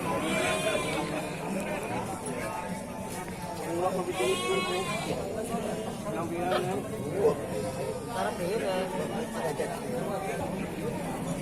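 Sheep bleat repeatedly at Cilongok livestock market in Banyumas, several wavering calls rising above a constant crowd murmur and nearby chatter, fairly close and moderately loud throughout.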